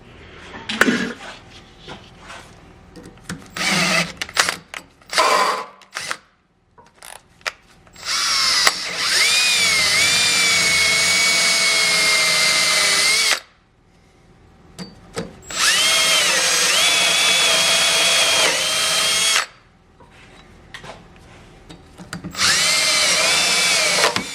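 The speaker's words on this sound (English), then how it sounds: "I'm just going to drill it out and she'll be good as new" Loud power drill whirring while drilling out a brake fitting on a Cummins-swapped square-body truck, in several long bursts separated by short pauses and some clattering handling noise, close to the microphone.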